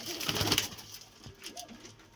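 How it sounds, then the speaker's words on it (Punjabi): Pigeons cooing, soft repeated low coos over a rustling, busy background, fairly close and steady. "ਇਹ ਡਾਵੇ ਵਾਲੇ ਆ ਕਬੂਤਰ"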